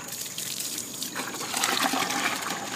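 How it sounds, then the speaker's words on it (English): Water runs from a household tap in a steady hiss that grows stronger and fuller partway through as the flow is turned up, close by with no voices. "I turn the water back on more."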